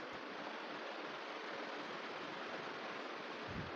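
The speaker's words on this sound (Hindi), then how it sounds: "जिसमें मैं अपने बैकग्राउंड में पंखा चालू कर दूँगा" Electric fan running in the background, a steady, soft whooshing rush of moving air that holds constant and fairly quiet throughout, with no voices.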